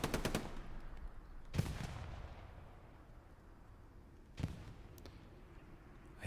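Machine gun fire in a World War II Battle of the Bulge multiplayer game erupts in short bursts and heavy distant booms separated by a few seconds, over a low rumbling battlefield background.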